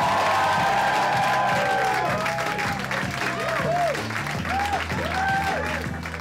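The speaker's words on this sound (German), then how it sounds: "Bitte gebt einen ganz, ganz, ganz fetten Applaus für Felix" A comedy-show audience bursts into loud, sustained clapping mixed with cheering and whistles, welcoming a comedian on stage.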